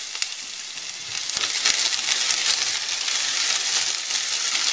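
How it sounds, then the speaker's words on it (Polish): Chopped onion frying in two to three spoonfuls of olive oil in a pan while making risotto, a steady, dense sizzle that builds slightly after the first second and holds loud and close with no talking. "Na patelnię wlewam 2-3 łyżki oliwy i wrzucam na nią cebulę."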